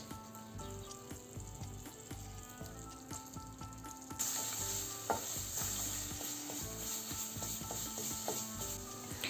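Tomato paste stirred with a spoon into flour roasted in a pan for a soup, close scraping and clinking over a constant sizzle that grows louder and brighter partway through, with no talking.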